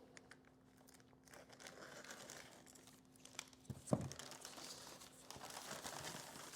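Cardboard and plastic packaging of a Samsung S9 UltraWide monitor box being cut open, faint crinkling and scraping with a sharp snap midway, soft and close.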